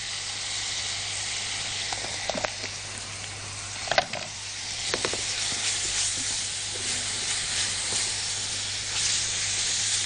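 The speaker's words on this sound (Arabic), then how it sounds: "البصلة اتشوحت تمام مع البهارات وريحتها طالعة هايلة جدا" Onion sautéing with baharat spices, cinnamon and black pepper in a pan for chicken kibbeh filling, giving a steady broadband sizzle with a few soft stirring clicks throughout, close and alone with no talk.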